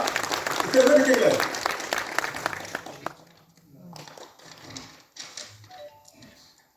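Crowd applause at a Tamil poetry book launch event, steady and fairly loud for about three seconds, then giving way to someone speaking over the hall with scattered faint claps.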